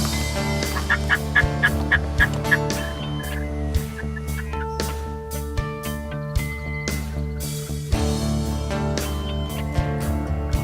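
A wild turkey gobbler in full strut gives loud, rapid rattling gobbles in repeated bursts while following a hen toward decoys during a hunt.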